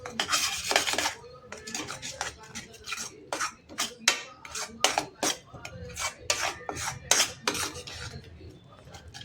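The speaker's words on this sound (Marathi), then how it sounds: "बारीक गॅसवर छान असं परतायचं याला." A spoon works puran filling around a pan over a low flame, scraping and knocking against the metal in an irregular run of sharp strokes, close and fairly quiet, with no one talking.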